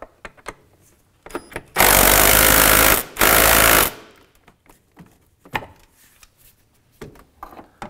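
Rapid mechanical ratcheting from a 10 mm socket loosening a fastener on a 2015-2019 Hyundai Sonata, two loud sustained bursts of about two seconds each, with scattered clicks and handling knocks before and after.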